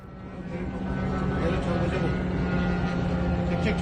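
A Russian Geran attack drone flies over the port of Odesa, its engine drone swelling from faint to a steady loud buzz that holds to the end, with voices under it.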